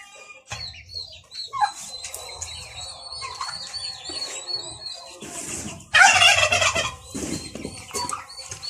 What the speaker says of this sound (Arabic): دلوقتي هسيب بقى الروميه تطلع براحتها